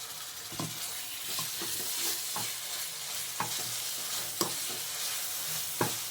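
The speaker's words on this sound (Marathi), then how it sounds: "वाटण मस्त परतून घेऊया" Ground dry coconut, onion, garlic and ginger paste sautéing in oil in a pan, a soft steady sizzle broken by scraping spoon strokes, close and fairly quiet.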